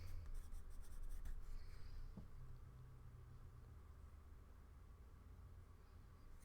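A pencil sketching on paper, with faint quick scratchy strokes in the first couple of seconds, then near silence.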